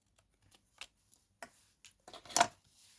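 Scissors trim a small piece of card at a craft desk, giving a few faint, sparse snips and rustles spread over a few seconds, the loudest cut near the end.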